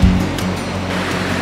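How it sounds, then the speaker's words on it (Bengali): The Rangit river in a hill valley near Darjeeling, a loud continuous rush of flowing water heard close by, with a brief low thump at the very start and no talking. "দেখো এই হচ্ছে রঙ্গিত নদী।"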